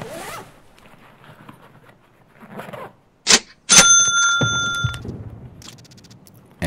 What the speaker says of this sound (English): So I went into the blue shack to check out the duffel bag